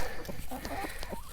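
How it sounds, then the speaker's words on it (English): Farm chickens being let out of their coop make a run of short clucks and warbling calls close by, over constant outdoor background noise. "I thought I'd come down here and let the chickens out."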